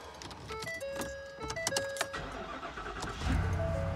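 A 2023 Ford F350 with the 7.3 gas engine starting up from cold in a cluttered work truck, with chimes and cabin sounds first, then the engine catching and settling into a low, steady idle near the end.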